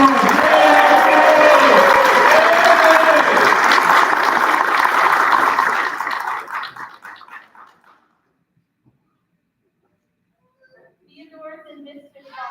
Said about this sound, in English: Let's get the other round of applause.